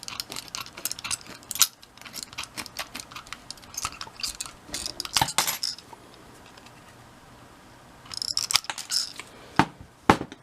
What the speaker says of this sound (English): Now I'm going to cut them out using a tin snips.